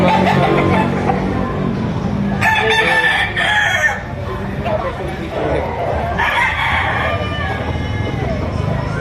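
Several roosters crow at a busy gamecock market in Lipa, Batangas, with hens clucking among the birds. Long crows rise over a steady crowd murmur, and people talk in the background throughout.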